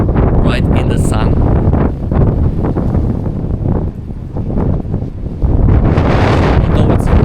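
Strong gusty wind buffets the microphone outdoors near Lichfield Cathedral, a loud, constant rumbling roar that swells and dips, with a voice speaking partly masked beneath it.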